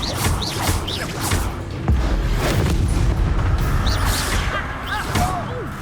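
Bombarda blasting spells explode repeatedly in a Hogwarts Legacy battle, with booming, rumbling blasts and whooshes layered over constant loud combat noise, a heavy impact landing near the two-second mark.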